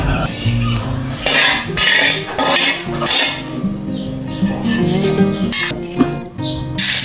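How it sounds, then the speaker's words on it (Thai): Spice paste is stir-fried in plenty of oil in a pan for a holy basil dish with red ant eggs, with a metal spatula clanking and scraping against the pan in uneven bursts, close and fairly loud. "ใส่เครื่องลงไป ผัดให้หอมก่อนนะครับ"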